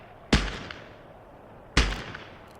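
Two sharp gunshots fired at a sign in Call of Duty Black Ops 6, each a loud crack with a short decaying tail, spaced about a second and a half apart with quiet between.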